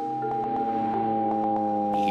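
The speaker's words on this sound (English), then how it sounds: "But that all changed when the king of cars started broadcasting beeps." Ford radio beacon station broadcasting beeps for early aviation navigation. A series of short, evenly spaced tones pulses over a steady droning carrier hum, sounding like a radio signal heard through a receiver.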